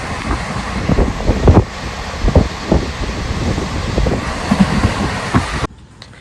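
A passenger train runs on rails, heard from on board with loud rumbling and periodic wheel clacks over wind noise, ending abruptly in near silence.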